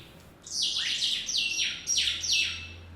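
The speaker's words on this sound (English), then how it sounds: "I'm sorry for the loud birds." Wild birds chirp loudly and close by in quick repeated bursts of bright, sweeping tweets, with no other sounds competing.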